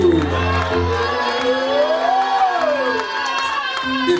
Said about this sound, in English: Somebody join your hands and clap unto the Lord and shout and praise Him.